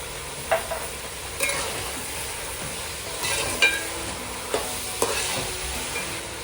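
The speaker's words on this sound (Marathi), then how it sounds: "आता त्यात रेड चिली सॉस टाकून परतून घेऊया।" Fried rice stir-fried with red chili sauce crackles in a hot pan, a soft steady sizzle punctuated by several crisp spatula scrapes and knocks at irregular intervals, close up and without speech.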